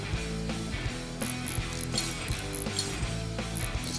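Bolts being worked off the rusty front blade of a steam train's wheel in Train Mechanic Simulator 2017: a steady mechanical ratcheting with repeated clicks and clinks over a low humming game background, close and fairly loud.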